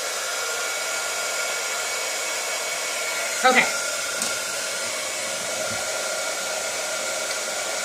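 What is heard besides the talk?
heat embossing tool blowing hot air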